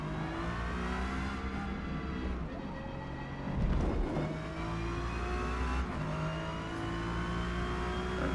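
An Acura NSX race car engine in Forza Motorsport at Yas Marina pulls into the pits, droning steadily close up with rising and falling revs and gear changes, a brief louder surge midway, and no voices.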